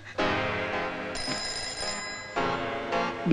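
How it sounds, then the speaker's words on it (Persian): An old telephone rings in a nostalgic Persian comedy film by Mohsen Makhmalbaf, with two long, bright electric ringing bursts separated by a short pause, loud and close with no voices. "میشه عزیزم تلفن رو جواب بدی؟"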